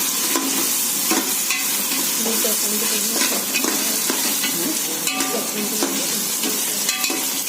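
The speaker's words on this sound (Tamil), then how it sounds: "நல்லா இஞ்சி பூண்டு நல்லா வதக்கணும்." Ginger and garlic sauté in a pan for a vegetable biryani, a steady loud sizzle broken by frequent scraping stirs and light clinks of the spoon against the metal, with no voices.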